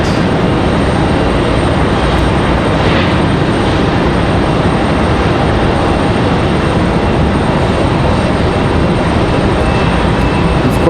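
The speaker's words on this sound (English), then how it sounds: "So again, this 737 coming at us from Charlotte." A Boeing 737 arriving from Charlotte at Raleigh Durham airport, a loud, even, broadband engine rush that holds steady without talk.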